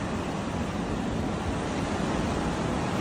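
Ocean waves wash onto a Sri Lankan beach at sunset, a steady, full broadband surf roar with wind, constant and fairly loud with no talk.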